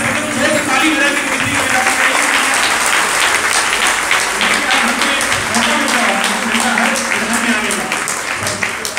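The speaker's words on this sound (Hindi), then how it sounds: "सब लोग ताली बजाएंगे," Loud, continuous applause from a large gathering at a religious ceremony in Bangalore, many hands clapping in a dense steady roar with a faint voice or tone running beneath.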